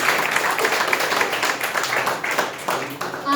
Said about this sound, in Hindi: तो एक बहुत जोर से तालियां बजा दीजिए